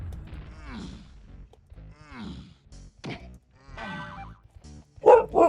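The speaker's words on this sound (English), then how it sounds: "Tally's back, and she's gonna bark." Tally the dog gives several barks and yips spaced out between quiet gaps, close to the microphone and ending on a louder, sharper bark.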